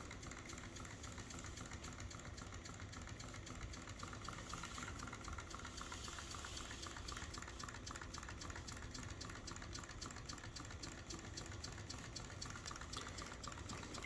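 A Rider Ericsson scale model hot air pumping engine runs with a steady, fast mechanical ticking and soft chugging that stays even and fairly quiet throughout, with no voices.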